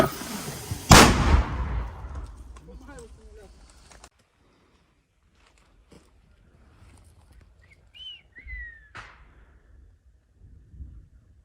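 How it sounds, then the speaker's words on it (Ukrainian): A single sharp, booming mortar launch blast near the start, followed by fading rumble, scattered faint clicks, and a couple of short distant whistles. "Постріл."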